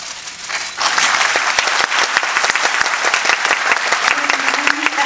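Big, dense applause from the audience at Urawa Hall for actress Haruka Fukuhara, serving as one-day Urawa police station chief. Clapping swells after a quieter first second and continues loud and steady throughout.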